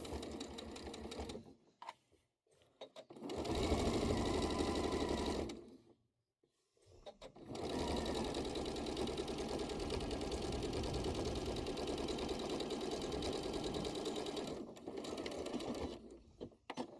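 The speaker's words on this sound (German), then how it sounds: "Ich steppe hier auf der linken Seite der Schulter ab" Sewing machine topstitching along the left shoulder seam of a hoodie, running in close, even bursts with a brief pause between stretches, then a long steady run and a short final burst.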